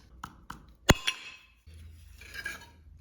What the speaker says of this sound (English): And now just break this glass into 2 pieces.